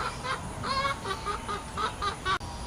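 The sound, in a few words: angry chicken clucking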